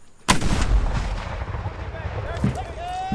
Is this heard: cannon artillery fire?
yes